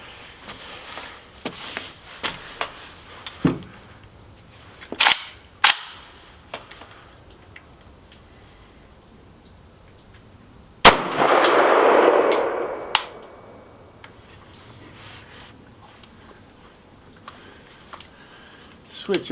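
Arsenal SAM7K44 rifle fired at steel plates on a range: a series of sharp, irregularly spaced shots, some loud and some fainter, followed by a brief burst of hissing noise.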